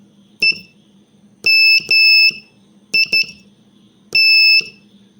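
Clean, loud electronic Morse code tones spell the word EMIT: one short dit, then two long dahs, then two quick dits, then a single long dah. Silent gaps separate the letters, and no voice is heard.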